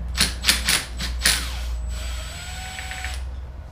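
A half-inch ratchet wrench clicks in a few quick, close bursts while removing a nut during a bottle opener install on a GT500, followed by a lingering faint whir.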